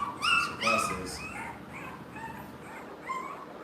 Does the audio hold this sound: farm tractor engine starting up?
no